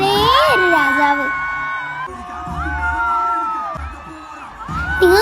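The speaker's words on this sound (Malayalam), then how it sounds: "നിങ്ങൾ കേൾക്കുന്നുണ്ടോ ഈ ആരവം?" A crowd of fans cheers and roars for actor Mohanlal, with shrill whoops and screams rising and falling in loud, close waves as people shout.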